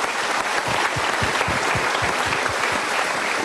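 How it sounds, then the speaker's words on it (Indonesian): Steady audience applause, many hands clapping together in a dense, even patter that holds for a few seconds. "Kita berikan tepuk tangan dulu."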